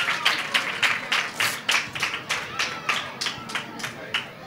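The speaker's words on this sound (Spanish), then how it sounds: "Un aplauso también para Miriam." Festival audience gives a round of rhythmic applause, a steady pulse of sharp claps about twice per second that keeps a clear beat throughout, fairly close and moderately loud.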